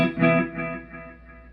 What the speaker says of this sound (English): That's delay.